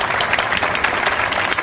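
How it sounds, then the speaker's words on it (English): Continuous applause from a small group, steady dense clapping with no talking. "Applause. Everybody, you can clap along."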